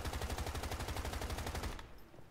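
Rapid automatic gunfire in the video game Once Human, a fast even burst of about twenty shots lasting under two seconds, then cutting off into a fading tail.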